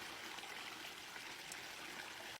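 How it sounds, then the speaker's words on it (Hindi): Water splashes steadily onto plants in a garden under hot sun, a continuous hissing trickle with no pauses, close and even in level until it cuts off abruptly. "नेहा दुपट्टा सिर पर डालकर झुककर पौधों में पानी देती है"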